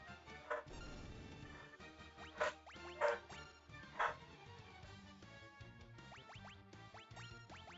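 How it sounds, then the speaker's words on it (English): Dogs in a room bark in a few short, sharp bursts, loud and close, over a steady bed of Final Fantasy Pixel Remaster game music. "I think my dogs are done barking"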